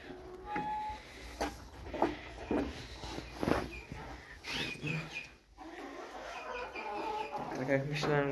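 Chickens and laying hens cluck in a coop, with scattered short clucks and calls near and far, plus footsteps moving about. A person talks at intervals over the birds.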